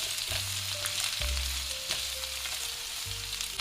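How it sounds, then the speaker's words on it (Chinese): Ginger slices and bamboo shoots sizzle steadily in a little oil in a wok, frying to drive the moisture out of the shoots. The hiss is continuous and close, with a few faint scrapes and clinks and no talking. "锅中流底油，下入姜片、雷笋， 煸干笋中水分，"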